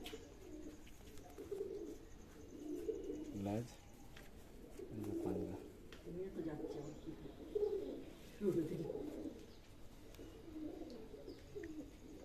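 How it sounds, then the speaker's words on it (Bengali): Pigeons offered for sale in Baruipur give repeated soft, low coos at a moderate distance, while people talk over and between the calls. "লম্বা পায়রা।"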